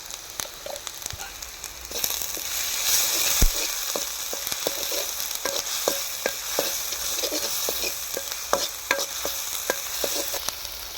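Ginger garlic paste fries in a pan for chicken fry, giving a continuous close sizzle that rises partway through, broken by frequent light stirring clicks.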